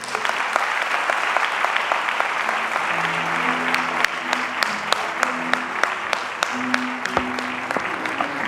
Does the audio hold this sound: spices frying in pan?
no